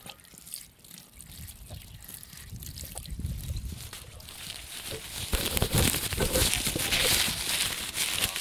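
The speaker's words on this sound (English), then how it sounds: "This is the sound of water from the water butt on the top." Water trickles and splashes steadily from a water butt in a primary school grounds, a continuous outdoor flow that grows louder and fuller toward the end, with no talk over it.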